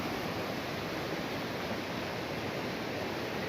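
A river in California rushing around a bend, heard as a steady, broadband roar of moving water that stays constant and fairly loud throughout, with no voices.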